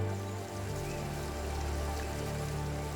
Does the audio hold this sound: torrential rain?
yes